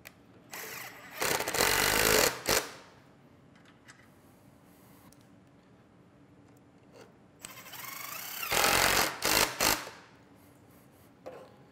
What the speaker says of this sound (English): I just put a couple of screws through the back of the miter gauge.